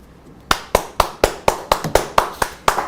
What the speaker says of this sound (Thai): แม้ไม่ใช่จุฬาแต่เขาปรบมือให้กับจุฬา